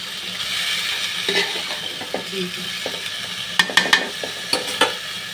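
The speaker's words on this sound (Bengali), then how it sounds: "এটা আমি ঢেকে দিব না, আমি এই অবস্থায় কষাবো, কারণ ঢেকে দিলে সবজির কালারটা নষ্ট হয়ে যাবে।" Cut long beans and potatoes sautéing in a pan, a steady close sizzle with scraping stirs and a run of sharp spoon clicks against the pan toward the end.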